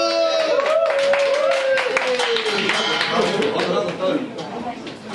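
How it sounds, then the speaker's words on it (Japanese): Audience clapping at a jug band festival in a Yokohama venue, scattered claps under loud talk and a whooping voice, with crowd chatter filling the room. "拍手。"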